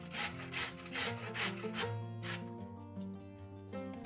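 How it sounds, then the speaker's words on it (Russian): A carrot grated on a coarse grater in a home kitchen, with rhythmic rasping strokes in repeated bursts over light background music, close and fairly quiet. "Одну морковь трем на крупной терке."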